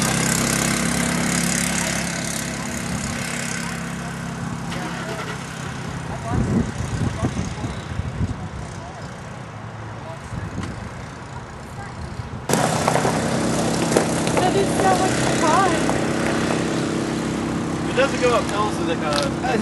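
A Mini Baja off-road vehicle's engine running as it sets off on a ride, a steady loud drone that shifts in level partway through, with people talking over it.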